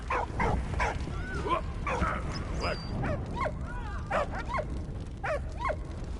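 A dog in the video game Valiant Hearts yips and barks repeatedly in short, bright bursts, with whimpering notes between them over a steady background score.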